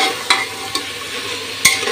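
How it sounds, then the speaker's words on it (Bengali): Kochu loti (taro stolon) and lentils sautéing together in a pan, a steady close sizzle and frying hiss broken by three sharp scrapes of a spoon stirring. "এখন কি সুন্দর করে কষাচ্ছে দুটো একসাথে দিয়ে"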